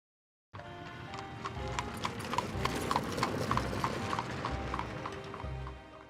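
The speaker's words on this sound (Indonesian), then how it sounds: "menaiki kereta kuda bersama Luke menuju" Horse hooves clip-clop in a steady trotting rhythm as a horse-drawn carriage rolls along, close and clear over a faint background hum.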